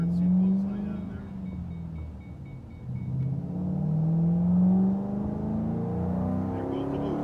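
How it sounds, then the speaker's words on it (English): A supercharged 2007 Ford Mustang GT Roush engine accelerates with a steady, rising low rumble and whir that builds and holds loudly throughout, heard from close inside the car. "There goes the boost."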